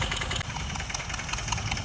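A tractor engine idling close by during a peanut harvest, a steady low rumble with a faint knocking rhythm and no voices.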